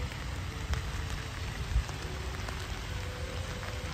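Steady rain falling during a walk through Central Park in Midtown Manhattan in spring, a constant close hiss with occasional low thumps and no talk.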